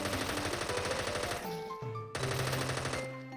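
MP5 submachine gun fired on full auto in the Minecraft mod Vic's Point Blank, rapid rattling bursts in a dense rhythm that break off briefly midway and then resume, loud and up close.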